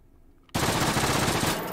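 An SCX rifle fitted with a stock fires in the VR shooting game H3VR. A quiet pause gives way to a sudden, loud burst of rapid automatic fire that keeps going to the end.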